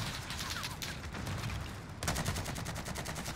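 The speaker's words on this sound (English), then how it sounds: "I'm just gonna keep shooting at it" Continuous rapid automatic gunfire in Call of Duty Warzone, dense overlapping shots that get louder and sharper about two seconds in, with no talk over it.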